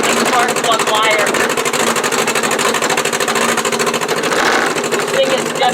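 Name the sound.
1959 Morris Minor 1000 engine misfiring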